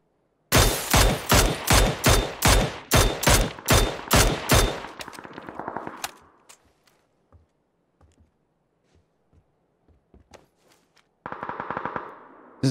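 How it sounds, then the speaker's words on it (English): MG3 machine gun in PUBG firing a rapid, loud burst of about a dozen evenly spaced shots, then scattered distant single cracks, followed by another brief close burst near the end. "That's the MG3 from earlier as well"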